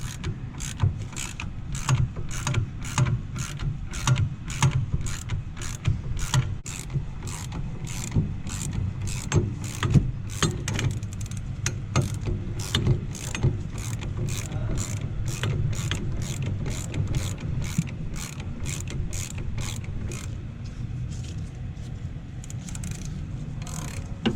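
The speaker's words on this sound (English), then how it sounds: "you can go ahead and change it up so that you can get more arc swing on the ratchet" A ratchet loosens a bolt on the rear brake of a 2015-2020 Ford Mustang GT350, making a long run of quick, evenly spaced metallic clicks close by over a low rumble.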